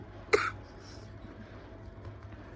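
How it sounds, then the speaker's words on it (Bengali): A single dry cough from a person with a cold, close and sharp, then quiet room noise. "এত শুকনো কাশি হচ্ছে বলার মতো"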